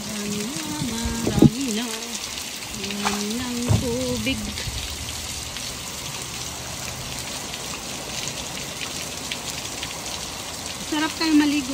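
Steady rain patters in a soft, continuous wash, with a few brief tonal noises and faint voices at the start and end.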